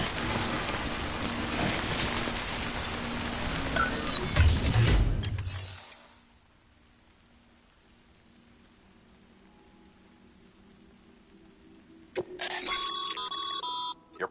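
Steady broadband rain hiss from the timefall in Death Stranding fills the first six seconds, then drops to near quiet before a bright, tonal electronic chime cuts in near the end.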